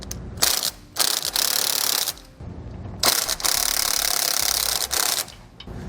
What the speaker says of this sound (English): we just want to tighten these enough to where that bracket is up against our leaf springs and not moving